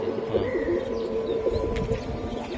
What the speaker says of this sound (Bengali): এটা কি জাতের কবুতর দিলেন